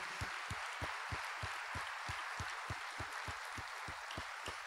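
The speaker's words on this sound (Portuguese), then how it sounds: "Dê um aplauso a esse Deus que vive e reina." A church congregation claps along in a steady rhythmic beat, about three claps per second, heard faintly and at a distance beneath a broad hiss of room noise.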